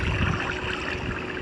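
A boat gliding across water in Minecraft, a short, steady wash of splashing and rushing water, close and even, with no talking.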